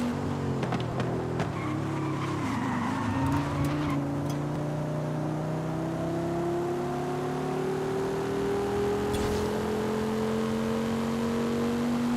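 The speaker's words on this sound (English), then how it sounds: "Using the handbrake to get the tail out kind of counters the understeer" Forza Horizon 5 car drifting with handbrake: steady engine drone with rising harmonic pitch over twelve seconds, tire scrub and brief squeal near the start, continuous and close with no talk.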